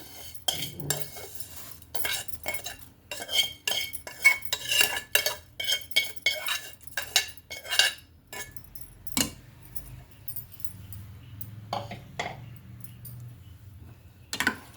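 Semiya goes into a pot of simmering sago payasam and a metal spoon stirs it, giving a run of sharp clinks and scrapes against the vessel that thin out into quieter stirring toward the end.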